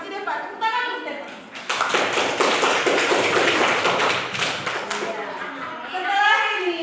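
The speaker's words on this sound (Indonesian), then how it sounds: "Tepuk tangan dulu deh Pak" Group of schoolchildren clapping hands together in an Indonesian classroom, a dense patter of claps building after a brief lull and continuing steadily, with children's voices chattering underneath.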